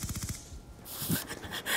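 Automatic gunfire in Call of Duty Black Ops 2 from an MP7 submachine gun, a rapid rattling burst followed by louder bright shots and impacts, with no talk over it.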